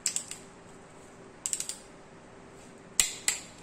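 A click-type torque wrench tightens bolts on a forged turbocharged VW AP 2.0 engine, giving three close groups of sharp ratcheting clicks separated by quiet pauses, the last group ending in a louder snap.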